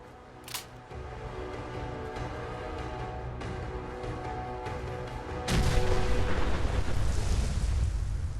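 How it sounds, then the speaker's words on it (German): In Fallout 4, a sharp click comes first, then steady rumbling, and a loud explosion bursts in near the end and roars on as a dense blast of noise. "Muss in meiner Gegenwart immer irgendwas explodieren?"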